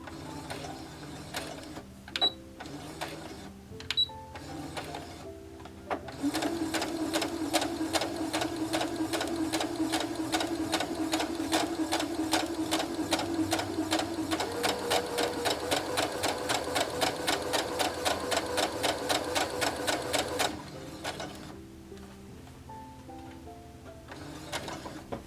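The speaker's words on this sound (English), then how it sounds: "I'm using the T4 setting on the stitches for my machine" A sewing machine set to a T4 stitch sews the seam of a cotton blouse with 3/4 sleeves, humming steadily for about fifteen seconds, with quieter handling noises before and after.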